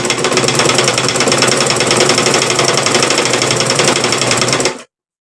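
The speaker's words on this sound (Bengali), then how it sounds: "এখন দেখুন আমি মেশিন দিয়ে জাস্ট এভাবে লম্বালম্বি রেখে সেলাইটা দিয়ে নেব" Cut-work dress fabric fed lengthwise through a sewing machine, its needle hammering a fast, steady mechanical rattle that runs loud and continuous for nearly five seconds before stopping abruptly, with no talking.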